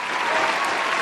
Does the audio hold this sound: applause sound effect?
yes